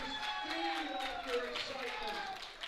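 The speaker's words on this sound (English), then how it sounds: "Looks like she has a nice group of fans out there cheering her on." A crowd of fans at a powerlifting nationals meet cheering on a female lifter, shouting and whooping in a hall, with scattered claps and voices rising over one another.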